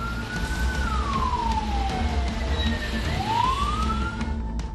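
A wailing emergency siren from an ambulance stuck in a traffic jam, its tone sweeping down and then rising again over steady road and engine noise, loud and fairly close.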